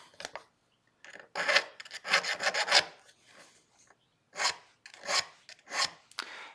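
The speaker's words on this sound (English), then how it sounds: "I'm just going to finish up some filing. Make sure we got good, crisp, clean bevels and edges." A metal file rasps in short bursts along the bevelled edges of a silver coin ring being shaped into a cocktail spoon, close and distinct, with brief pauses between strokes.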